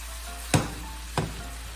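Whole head-on shrimp fry in butter in a pan, with a steady soft sizzle broken by two sharp crackling spits about half a second apart.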